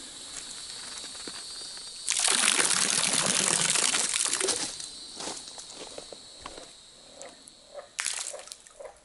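Fish dropped from a height into stagnant creek water make a broad splashing burst lasting a couple of seconds, then a few scattered smaller splashes and drips, close by.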